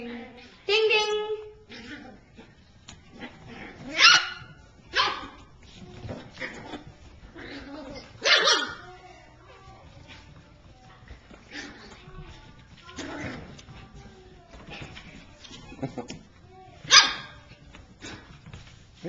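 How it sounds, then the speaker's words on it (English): Toy poodle puppies bark in short, sharp bursts while play-wrestling, a few loud yaps spaced across the stretch with softer yips and scuffling between, and people talk quietly in the background. "It's another round of dog wrestling."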